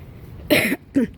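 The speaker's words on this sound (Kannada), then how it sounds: "ಇವಾಗಲೂ ಕೆಮ್ಮು ಇದೆ" Two short, close coughs from someone ill for three days, the first a little stronger, the second following about half a second later.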